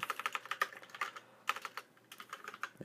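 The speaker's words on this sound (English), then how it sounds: "if I can type" Quick bursts of keystrokes on a computer keyboard, close and clear, in irregular clusters with brief pauses and no talking.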